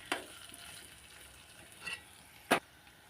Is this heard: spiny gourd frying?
yes